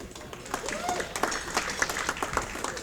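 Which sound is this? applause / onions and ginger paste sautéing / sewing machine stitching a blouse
applause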